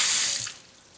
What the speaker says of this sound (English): The water seems to be going down just fine.